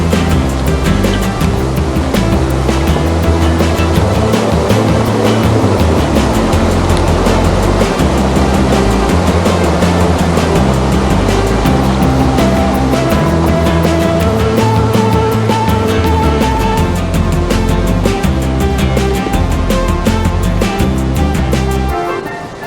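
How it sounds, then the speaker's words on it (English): A mountain creek on the Black Cloud Trail up Mt Elbert rushes under a bridge of logs and branches, a loud, steady, close roar of churning water that stays unbroken throughout. "Here's that creek again."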